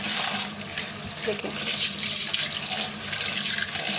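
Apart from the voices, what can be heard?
cold water poured over boiled macaroni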